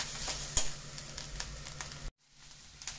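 Grated coconut dry-roasts in a pan for a Kerala small onion curry, a soft crackling sizzle with scraping stirs, then a brief drop to near silence before the faint frying resumes.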